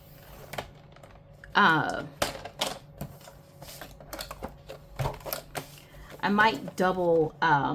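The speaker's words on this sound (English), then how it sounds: "I am just going to trim these really close to that seal" Sharp snips and clicks come from scissors trimming a laminated planner cover close to its seal, in short bursts between quiet gaps, while a person talks throughout.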